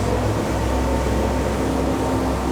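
Steady, droning noise of twin Yamaha 450 outboard engines on a Jeanneau DB37 boat cruising at 19 to 23 knots, constant pitch, loud and continuous, with a broad rushing hiss over a deep hum.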